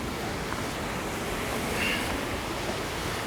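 Ocean waves wash steadily onto rocks along a rocky shoreline during land-based fishing, a continuous broadband roar of surf with a slight swell near the middle, no voices.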